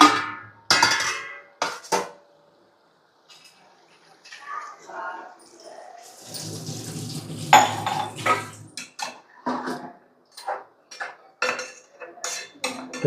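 Chicken curry cooks in a pot with water added, and a spoon clinks and scrapes against the metal in sharp bursts. People talk in between the clatter.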